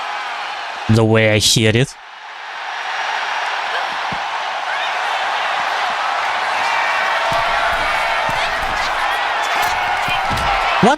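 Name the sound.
crowd booing in video game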